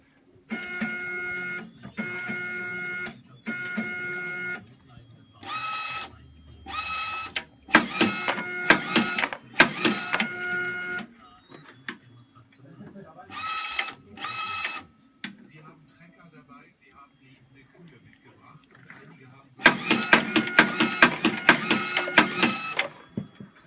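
A LAB400 label applicator paired with a Zebra ZE500 printer applies self-adhesive labels to SD cards in a 25-piece test run, giving repeated bursts of mechanical whirring and clicking in regular cycles, with some pauses and a denser run near the end.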